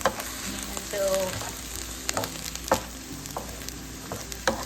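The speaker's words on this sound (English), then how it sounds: "Add a tablespoon of oil and let that heat up in your skillet. Add onions and peppers and cook about 3 to 5 minutes" Onions and peppers frying in hot oil in a skillet over medium-high heat, a steady close sizzle broken by a few sharp utensil scrapes and clacks as they are moved around.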